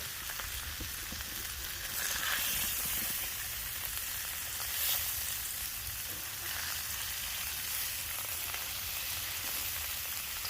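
Smashed burger patties topped with tortillas sizzle on a flat griddle, a continuous dense hiss that swells slightly midway, heard up close without any voices.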